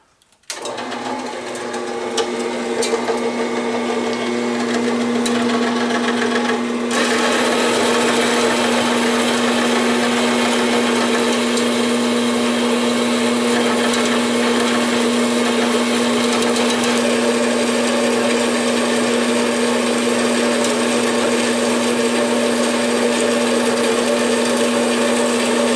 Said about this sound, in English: As with most projects, I'm going to start at the bandsaw.